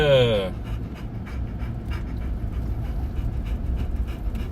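A dog pants in quick, steady breaths close by during a drive, with a low rumbling vehicle hum underneath and a brief whiny tone at the start.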